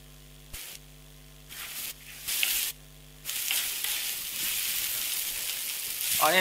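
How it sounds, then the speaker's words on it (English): Onion sautéing in a pan while making a radish and tomato chutney, a bright hissing sizzle that starts in short bursts separated by a humming drone, then settles into a continuous sizzle, close and steady. "onion slightly sauteed"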